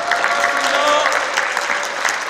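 Loud, sustained clapping from a crowd at a book launch event, continuous and close, with a faint murmur of voices underneath.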